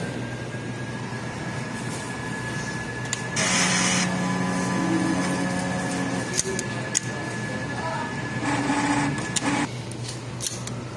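A sublimation printer runs a print head cleaning cycle, with a steady mechanical hum under bursts of whirring pump and carriage motor noise, a few sharp clicks, and a second whirring burst later on.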